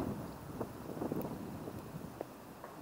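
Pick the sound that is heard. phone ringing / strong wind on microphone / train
strong wind on microphone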